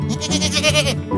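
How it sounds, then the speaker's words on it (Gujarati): A goat bleats once, a loud, wavering, nasal cry up close, lasting about a second. "એટલે કાબરી નહીં, બંની બકરી જશે."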